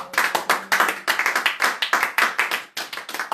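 A church congregation applauding in praise, brisk rhythmic clapping in waves with short pauses, close and fairly loud, with no speech over it.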